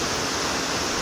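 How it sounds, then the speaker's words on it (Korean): Steady, full rush of water falling over the 15-meter Bagatürgen waterfall in Bayan-Ölgii, western Mongolia, fed by snowmelt, a constant broadband roar with no pauses or other sounds. "시원하게 떨어지는 폭포를 바라보며"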